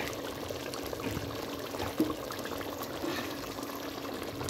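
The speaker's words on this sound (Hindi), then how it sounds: "और आप इसमें मैं साथ में पानी डाल दूँ" Hot water from a kettle pours into a pot of chicken and potato curry, giving a steady close splashing gurgle with a small bump partway through and no talk.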